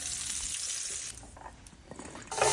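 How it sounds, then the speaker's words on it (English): Sliced sausages frying in a pan, a steady close sizzle that dips in the middle and swells louder again toward the end, with no talking. "we're going to cook them up until they almost get like a little burnt appearance on them"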